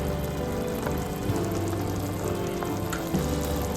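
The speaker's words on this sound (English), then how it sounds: "Give a quick stir and let it simmer." Freshly ground spice paste sizzling and simmering in a hot skillet for a spicy chicken dish, a dense, steady crackling hiss like light rain, close and loud throughout, no voices.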